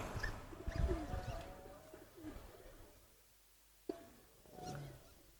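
A pigeon coos softly in low, rolling bursts close by, with quiet pauses between calls and a sharp tap midway.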